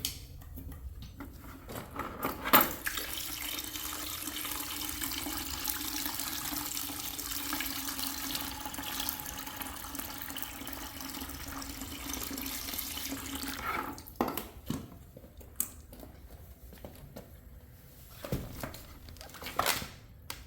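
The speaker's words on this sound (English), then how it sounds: "we're going to put some water in this bucket" Water runs steadily from a tap or hose into a bucket for about fourteen seconds, then stops, leaving faint drips and small splashes.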